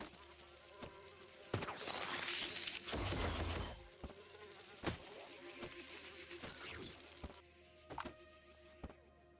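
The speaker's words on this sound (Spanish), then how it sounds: "¿Por qué oigo mosca?" A fly buzzes in the Nova Lands game, its whining drone rising and falling in a few passes, swelling loudly near the middle amid sharp clicks and chopping hits.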